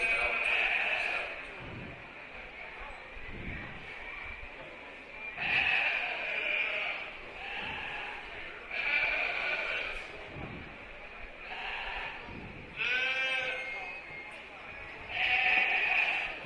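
Ewes and lambs at a county fair sheep show bleat repeatedly, loud wavering calls every couple of seconds, with voices talking and faint shuffling in the background.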